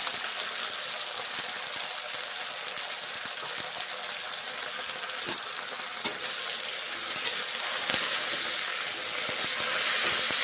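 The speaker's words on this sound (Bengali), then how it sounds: "এইভাবে সজনে শাক রান্না করছি" Drumstick leaves (sajne shak) fry and get stirred in a pan, a steady close sizzle and hiss running the whole time with light scraping of the spoon, no talking.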